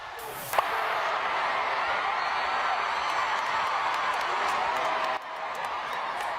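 A large crowd at Wembley stadium cheers in a dense, continuous roar, loud and sustained throughout with a brief sharp knock near the start.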